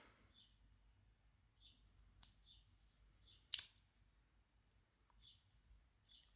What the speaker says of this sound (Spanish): Unas tijeras.